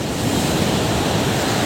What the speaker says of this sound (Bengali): এই হলো ভোরের পুরীর সমুদ্র।